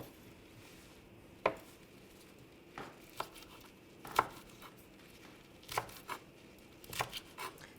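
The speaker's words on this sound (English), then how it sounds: "So after you've chopped the kale" Knife chopping kale leaves on a cutting board for a salad: sharp, close taps spaced irregularly, single cuts then a quick cluster near the end, with no talking.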